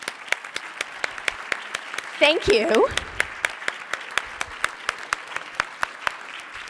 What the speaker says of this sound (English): I would love everyone to give them a round of applause.